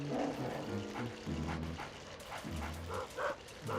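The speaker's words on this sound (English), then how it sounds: "We basically just need him to do a lot of barking for a little bit and avoid his occasional attacks" A dog in the video game Luigi's Mansion barks repeatedly in short, yappy bursts, with brief gaps between them and faint game sounds behind, and no talking.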